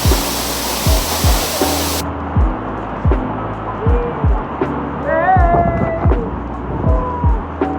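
A Taiwan waterfall roars in a loud, continuous rushing wash of falling water, close and steady throughout, while people talk over it.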